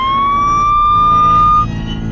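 An ambulance siren wails loud and close with a single rising tone over an engine-like rumble, then drops away abruptly near the end.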